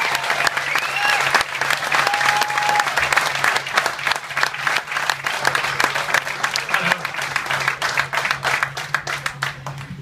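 Sustained applause from a large crowd at a concert on the cruise ship MSC Divina, dense and steady throughout, with a few scattered voices and whoops mixed in.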